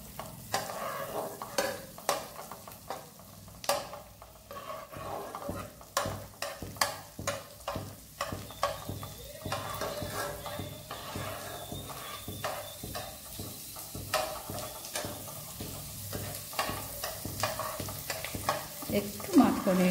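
Chopped garlic fries in butter in a pan, giving a soft, continuous sizzle broken by regular scraping strokes as it is stirred, fairly close and steady throughout.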